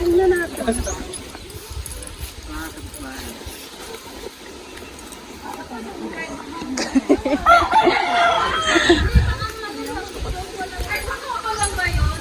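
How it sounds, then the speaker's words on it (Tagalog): Chickens cluck and a rooster crows in the background while people talk over them, with outdoor noise throughout. "Dami nyo palang manok kuya."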